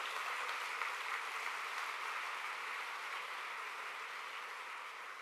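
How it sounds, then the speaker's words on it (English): Audience applause at a convention opening ceremony, a continuous even wash of clapping from a crowd, heard at a distance and fairly faint throughout. "I want to give the guys at the convention a big round of applause"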